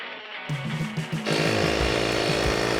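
A tiny portable tire inflator pump runs close by, starting with uneven buzzing bursts before settling into a steady, continuous motor drone that stays fairly loud to the end.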